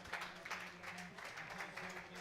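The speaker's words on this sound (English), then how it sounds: "the crowd here at Camps Drift rises in the background" A distant crowd cheers and applauds at Camps Drift during the finish of a 2017 K2 canoe marathon. The broad, steady roar stays faint throughout.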